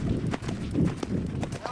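A good horse's hooves clip-clop on a Wild West trail in a steady walking rhythm, sitting under and between the voices of people talking.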